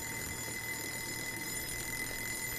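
Electronic alarm clock ringing in the PS4 game Joe's Diner, a steady continuous high-pitched tone sustained throughout at even loudness, with no speech.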